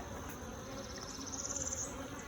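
Honey bees swarm around hives damaged in a bear attack, producing a dense, close buzzing drone with a rising whine from a single bee passing near.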